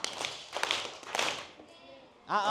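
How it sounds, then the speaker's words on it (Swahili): Audience applause for a volunteer at an outdoor village gathering in Mkuyuni, Kaliua District, Tabora, with bursts of clapping mixed with voices, then fading as a single voice speaks. "Tumpigie makofi haya"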